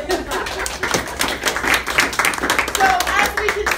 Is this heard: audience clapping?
yes